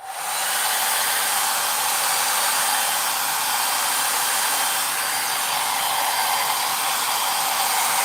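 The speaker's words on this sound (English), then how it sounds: "Hair dryer." A hair dryer blows steadily at close range, a loud, even whooshing hiss with a faint motor whine that never changes.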